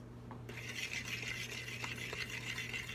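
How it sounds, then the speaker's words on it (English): A fork whisks eggs into a flour well on a kitchen counter for pasta dough. A soft, steady scraping swish repeats close by with light clicks over a low background hum, and no one talks. "I'm gonna whisk it on my counter, little bit by little bit, using the fork to pick up some of the flour"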